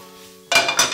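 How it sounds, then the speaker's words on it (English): Shrimp are stirred in a frying pan during taco preparation, with two sharp metallic clanks and scrapes of a utensil against the pan after a quiet start. "Let them fry for a minute or two on each side."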